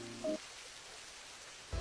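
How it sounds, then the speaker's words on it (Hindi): Steady rain falls onto an outdoor clothesline area, a soft continuous hiss throughout, briefly covered by two short louder tonal bursts near the start and the end. "माँ जी, अचानक ही बारिश शुरू हो गई"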